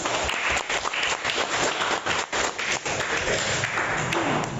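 Classroom applause breaks out for a student who answered a right-triangle math question correctly, with many hands clapping in a dense, steady roar that fills the room throughout.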